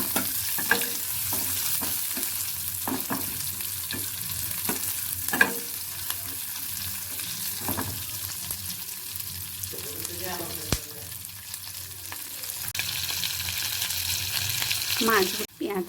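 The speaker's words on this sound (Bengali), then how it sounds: "তেলের মধ্যে দিয়ে দিলাম পেঁয়াজ। এই পেঁয়াজটাকে আমি খুব ভালো করে ভেজে নেব।" Onions frying in hot oil in a pan after fish, with a steady sizzle and repeated spoon-stirring scrapes throughout, close and alone with no talk.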